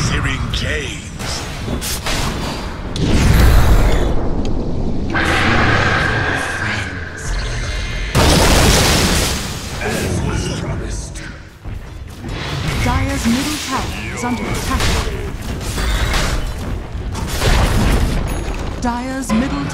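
Booms and thuds from a Dota 2 match as the Dire middle tower comes under attack and is destroyed, dense game effects layered under announcer voices throughout.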